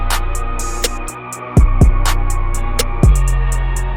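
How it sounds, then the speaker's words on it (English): Lex closed hi-hat stretched out long inside a trap beat, its drawn-out sizzling hits riding over booming 808 bass slides, sustained synth tones and sharp claps in a loud full mix. "So when the hi-hat's stretched out, it's going to sound like this."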